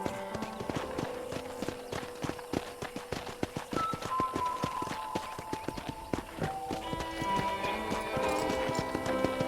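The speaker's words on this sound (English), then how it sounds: "let's see if you can still ride a horse" Steady clip-clop of horse hooves in a brisk trotting rhythm around a ranch in Red Dead Redemption, with a melodic tone and ambient noise layered underneath.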